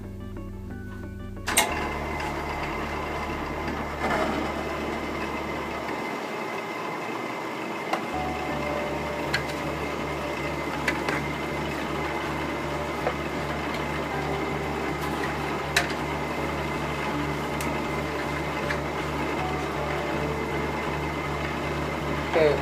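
A wooden bowl spins on a lathe as the face is flattened and the corners are taken off, giving a steady machine hum with intermittent scraping of the tool against the wood.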